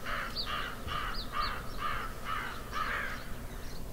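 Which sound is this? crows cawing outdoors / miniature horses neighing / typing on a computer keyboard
crows cawing outdoors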